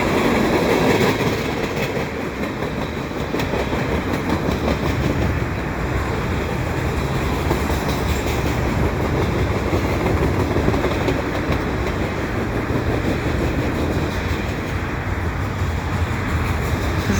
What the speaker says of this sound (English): is a westbound double stack train with CSX locomotives